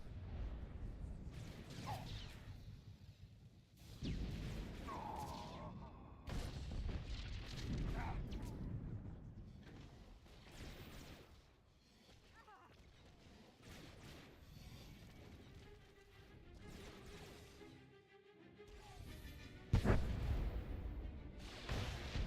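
Turrets firing in Star Wars: The Old Republic, rolling heavy blasts and booms that come in bursts over a long stretch, with a voice speaking and game sounds layered around the gunfire.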